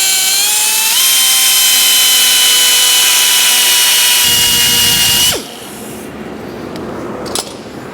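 A power tool loudly machines a small groove for a bolt into a 2014 Camaro SS dash piece, whining steadily with rising pitch for about five seconds, then cutting off and leaving quiet workshop noise with a brief clink near the end.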